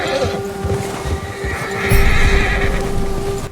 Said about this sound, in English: Man, that bear just spooked my horse.